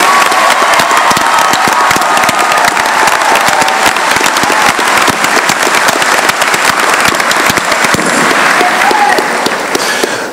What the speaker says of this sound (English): Let's give another round of applause for our 2012 graduates.